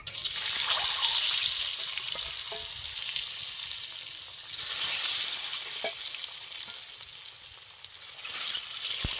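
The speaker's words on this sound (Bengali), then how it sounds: "এবার আমি ডিম দিয়ে দেবো।" Boiled eggs fry in hot oil for an egg biryani, a loud, steady sizzle with periodic swells and faint clinks of stirring.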